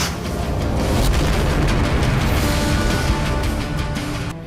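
An explosion blast from a historical TV series trailer unfolds as a loud, sustained rumbling roar that fills the whole stretch with no voices over it.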